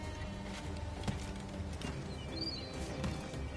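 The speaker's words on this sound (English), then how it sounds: "Ooh, pretty bird noises." Birdsong in Assassin's Creed: Black Flag, a few short chirping calls, one clear rising-falling whistle, heard faintly over a busy ambient bed with light thuds and rustle.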